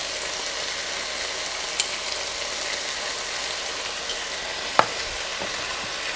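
A colourful stew with added syrup stirred in a pot, a continuous close sizzle and bubbling with a single sharp clink near the end, no voices.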